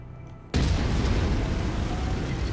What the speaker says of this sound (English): Oh yeah, that cannon sounds powerful.